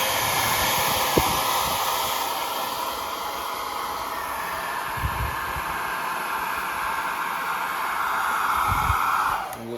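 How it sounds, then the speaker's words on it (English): A hair dryer blows steadily on the cleaned parts of a Westclox Big Ben Style 8 single-key clock movement, a loud continuous airy roar with a few faint knocks, cutting off at the end. "it's just kind of taking a hairdryer and just doing it like that"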